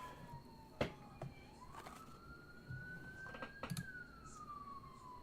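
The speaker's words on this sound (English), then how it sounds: "Apologize if you hear the siren in the background." An emergency vehicle siren wails faintly outside an open window, a long rising and falling tone drifting in the distance, with a few sharp knocks and clicks indoors.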